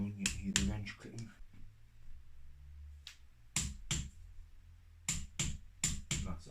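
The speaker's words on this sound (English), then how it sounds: "You can hear the wrench clicking." Sharp clicks from a torque wrench tightening the base bolts during a Yamaha DT125R 2000 motorbike top end rebuild, several close together in short bursts separated by quiet gaps, fairly close and clear.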